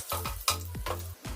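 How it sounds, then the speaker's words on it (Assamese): Beaten eggs frying in a pan with turmeric powder, giving a short burst of sizzling and stirring scrapes in uneven bursts, close and fairly soft, with no voices. "এই কণীখিনি ফুটা ফুটা কৰি মই অকণমান ফ্ৰাই কৰি ল'ম।"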